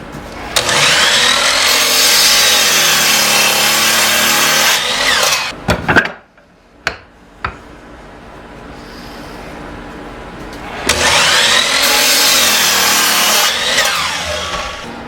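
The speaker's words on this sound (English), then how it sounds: "Go over to my miter station, just set the stop at 18 inches and get them all the same length now." A miter saw cuts walnut pieces to a set length at a miter station, two long, loud whining cuts separated by a quieter pause with a few clunks as a piece is repositioned.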